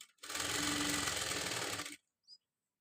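A sewing machine runs in one steady burst of close, loud stitching while piping is sewn onto fabric, then stops abruptly, followed by a brief small click.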